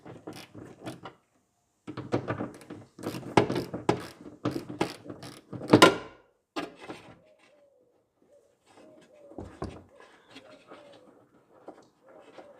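A 10mm socket ratchet backs out the spoiler bolts on a GT350 Track Pack, giving bursts of quick clicking pawl ticks up close, then pauses with faint clicks and rustle.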